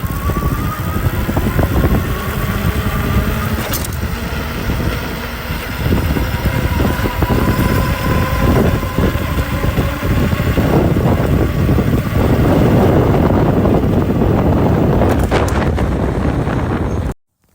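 A Ridstar Q20 electric bike accelerates from a standstill and rides along a road; a faint rising motor whine sits under heavy, continuous wind rush buffeting the microphone, cutting off abruptly at the end.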